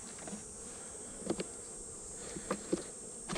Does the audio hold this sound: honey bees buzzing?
yes